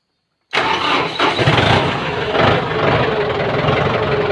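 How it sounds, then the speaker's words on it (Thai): A Kubota M8540 tractor's diesel engine cranks over after a moment of silence, catches loudly and settles into a steady, rough, close idle, with no talk over it. "อ่ะ เดี๋ยว ลอง ลองสตาร์ท แล้วก็ ควบคุมใบดันให้ดูนะครับ"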